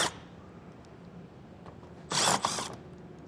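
A power tool spins out 10mm screws from the bottom plate under a 2024 BMW, giving one loud burst of drilling lasting about a second that cuts off sharply over a quiet background.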